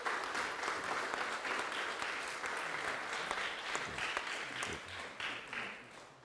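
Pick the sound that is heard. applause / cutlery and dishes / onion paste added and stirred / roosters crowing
applause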